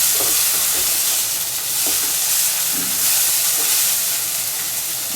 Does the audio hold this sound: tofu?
yes